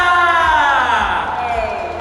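A loud, close fan audience at a Ling Ling Kwong fan event breaks into excited whoops and high cheering that sweeps up and down and fades slightly toward the end.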